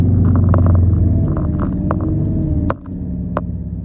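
Loaded 4x4 utility truck carrying about 500 kg grinds up a hill with its rear wheels spinning, a loud low rumbling engine drone with sharp knocks, then a sudden drop in level near the end.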